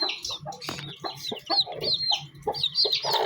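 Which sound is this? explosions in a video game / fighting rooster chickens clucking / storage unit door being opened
fighting rooster chickens clucking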